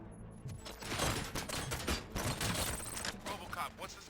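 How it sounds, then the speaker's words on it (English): Rapid bursts of gunfire crackle in dense, overlapping volleys amid clattering mechanical noise in the video game RoboCop: Rogue City, with a voice faintly underneath. "Gunshots? What's going on?"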